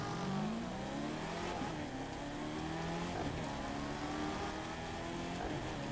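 Supercharged car accelerating in a street race, its engine whine climbing in pitch through several gear pulls, moderately loud and unbroken for several seconds, no one speaking.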